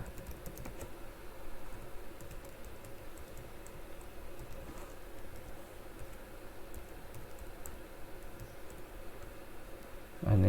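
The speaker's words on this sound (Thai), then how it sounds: "ก็จะใส่ รหัสผ่านนะครับ ก็มีตัวอังกฤษพิมพ์ใหญ่พิมพ์เล็ก แล้วก็ ตัวเลข ด้วยนะครับ" Soft, quick clicks from a computer keyboard as a password is typed, a faint continuous patter of keystrokes over a low room hum with no talking.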